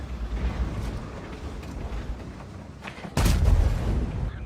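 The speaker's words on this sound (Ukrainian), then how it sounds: "Перші два постріли залітають." Tank cannon shots in the World of Tanks game, a sudden heavy boom late in the clip rising out of a low rumbling battle background, with fainter distant thuds before it.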